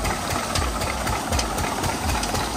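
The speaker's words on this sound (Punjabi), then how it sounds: "ਬਾਈ ਇੰਜਣ ਚੱਲਦਾ ਹੈ" A farm engine drives a water pump in a rice field, running with a steady rumbling idle and a faint rhythmic knock, close and continuous with no voices.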